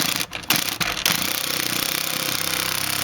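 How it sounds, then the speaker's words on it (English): Impact gun driving seat adaptor bolts on a 1994-2004 Ford Mustang, a few short bursts followed by sustained rapid hammering, loud and close with no talk. "now you get your impact gun. Alrighty then, now we're going to torque them down."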